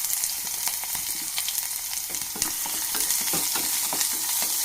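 Chopped shallots fry with mustard seeds in hot oil for a Kerala-style chickpea curry, a steady close sizzle and crackle broken by scraping stirs of a spoon against the pan, with no voices.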